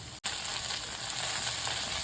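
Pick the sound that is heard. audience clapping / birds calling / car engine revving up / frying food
frying food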